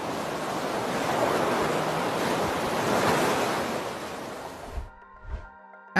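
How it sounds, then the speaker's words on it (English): Heavy ocean surf crashes onto the shore in a loud, sustained roar mixed with wind buffeting the microphone, then cuts abruptly to near silence with a couple of faint thumps near the end. "a huge wave crashed onto the shore"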